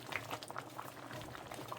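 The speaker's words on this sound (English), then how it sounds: "Now that the stew is cooking, it's boiling here" Irish stew boiling in a pot, a soft, steady bubbling with small pops and gurgles, faint and close with no voices.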